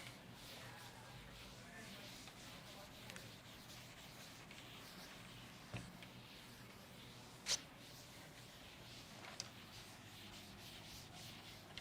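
A board being erased with steady rubbing and scraping strokes, soft and continuous, with a few faint knocks and no talk.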